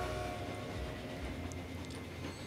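A train runs in the railway building game Transport Fever, a steady, low rumbling roll with faint rhythmic clatter, moderately distant and continuous, with no voices.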